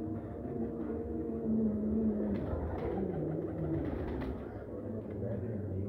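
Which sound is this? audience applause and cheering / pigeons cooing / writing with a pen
pigeons cooing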